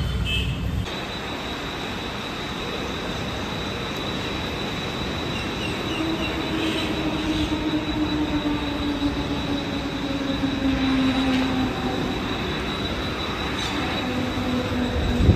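A train at Nerul railway station rumbles steadily, with a long high wheel squeal rising and fading through the middle, heard close and continuous with no talk.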